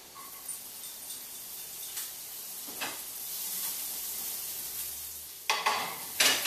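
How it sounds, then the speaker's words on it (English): Shallot goes into a pan of rendering bacon, giving a faint, quiet sizzle with a few soft stirring scrapes, then louder clatter and crackle near the end. "Now, I'm going to put our shallot in with the bacon."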